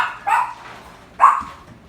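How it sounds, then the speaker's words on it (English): Puppies at home bark twice in short, sharp yips about a second apart, close and loud, with quiet gaps between. "Got the puppies barking."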